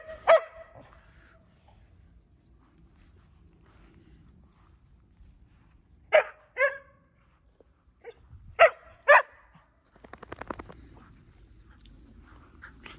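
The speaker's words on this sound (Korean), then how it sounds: "써니가 뛰면서 계속 짖는 이유는 이게 흥분이 높이 올라간 건데" A dog barks in short excited bursts, one early bark, then paired barks near the middle and later, loud and close against a quiet outdoor morning, followed by faint rustling.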